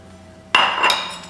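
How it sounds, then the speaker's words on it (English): Chopped spinach tipped into a glass bowl during a quinoa egg bake, giving a sudden bright clink and clatter with a second smaller knock, close and alone. "now we're just going to add in the chopped spinach"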